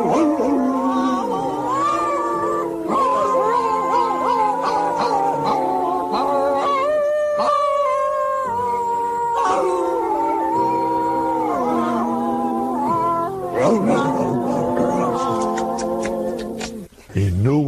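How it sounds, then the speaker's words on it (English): Eerie howling tones resembling a pack of dogs, crafted as a sound effect for Disneyland, rise and waver in long sustained wails that fill the whole stretch loudly and continuously. "he knew it sounded like dogs howling"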